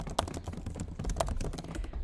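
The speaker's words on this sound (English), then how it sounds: "I'm hoping my typing's not too loud for you guys because we're also using the mics in the MacBook here" Typing on a MacBook keyboard, a quick uneven patter of soft key clicks with a couple of sharper taps, close and moderately quiet over low room hum, with no talk.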